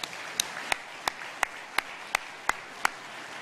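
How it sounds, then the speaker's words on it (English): A conference audience at a 2015 UKIP party gathering claps for London Assembly candidates: about nine sharp, evenly spaced claps in a steady slow rhythm, crisp and fairly close over a faint hall hum. "they deserve a huge round of applause again"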